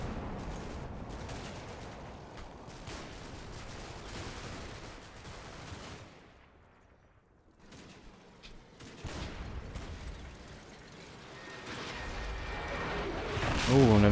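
Gunfire in the video game Combat Mission: Battle for Normandy: steady volleys of rifle and machine-gun shots crackle at mid distance, drop almost silent for a couple of seconds, then build again into heavier firing toward the end.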